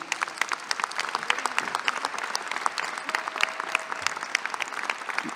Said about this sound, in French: je vous demande d'applaudir Bertrand Gaume.